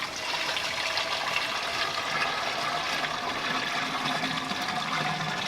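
Homemade organic insecticide liquid with neem and peppermint oil poured into a sprayer, a steady continuous splashing and trickling stream with no talk.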